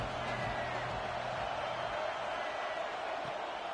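A football stadium crowd roars steadily on a big third down, a dense, continuous wash of cheering that stays loud and even with no break.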